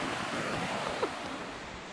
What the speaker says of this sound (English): Watson Falls is definitely the largest and most impressive of the waterfalls